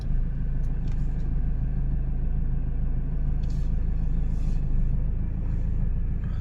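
Large 22-wheel trucks queuing at a fuel station, a steady low diesel rumble and idling drone, close and continuous with no talk.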